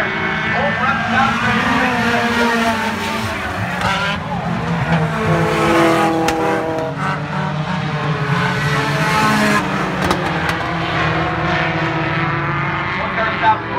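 Race cars on a stock car racetrack roar past with continuous loud engine noise and some tire squeal, under a commentator talking.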